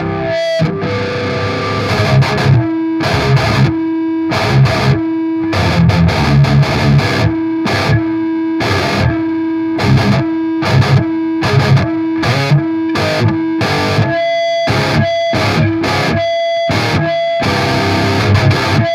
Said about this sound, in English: When you fire up a high gain, high output half stack, like a PV amp, and you're plugged directly into the amp